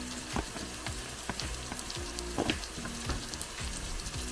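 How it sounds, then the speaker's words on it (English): Peppers sizzle and crackle as they fry in a pan with chickpeas, a dense, continuous spatter of pops and hiss, close and fairly loud, with no voices. "Into the chickpea pan, I'm going to add the peppers."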